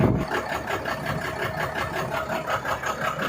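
A 260-horsepower FAW ten-wheeler truck engine fitted with an HHO kit runs close by, chugging in a steady, even pulse at idle with no talking.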